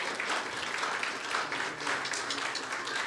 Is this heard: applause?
yes